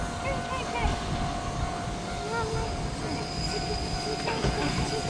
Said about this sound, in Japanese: ほら、電車。